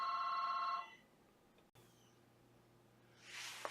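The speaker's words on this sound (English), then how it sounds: "It sounds like the phone's ringing." A telephone rings indoors with a brief electronic trill that stops after about a second, followed by quiet room tone, a low steady hum and a soft rustle.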